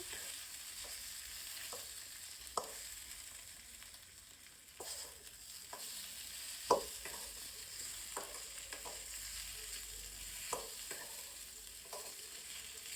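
Okra and potato fry in a pan for a tangy okra curry, a quiet steady sizzle dotted with intermittent light clicks and scrapes from stirring.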